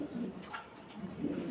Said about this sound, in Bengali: লক্ষা কবুতর